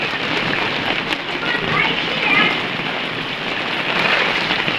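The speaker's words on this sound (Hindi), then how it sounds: "बारिश हो रही है हमारे शहर में भी" Steady rain pours down during a hot season, a dense even hiss of falling water that stays loud throughout with no breaks.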